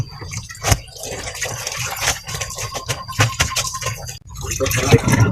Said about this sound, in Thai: ล้างน้ำสุดท้ายแล้วค่ะคือล้างน้ำที่สามค่ะ